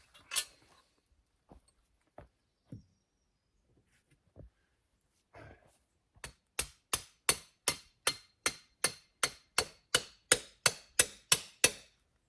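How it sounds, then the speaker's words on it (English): A hammer pounds rebar into rocky soil: a few scattered taps first, then a steady run of about sixteen loud, sharp metallic strikes evenly spaced, close and ringing, with no talk. "if I can find like a crevice and pound the rebar down inside of that"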